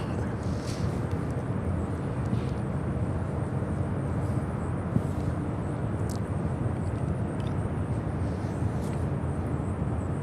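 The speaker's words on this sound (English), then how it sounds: "MD-11 heading there" An MD-11 airliner gives a constant, wide jet rumble at some distance, even and unbroken, with faint hiss and a few small ticks on top.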